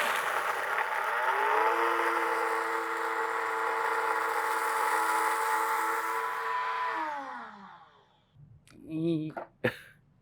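A blender grinds chilies and Sichuan peppercorns into a fine powder, a loud, steady whirring roar that drops in pitch and dies away, followed by a few brief noises.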